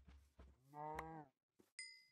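Cows mooing in a video game: one long, clear moo near the middle, framed by a few short thumps and a brief ringing tone at the end, close and alone.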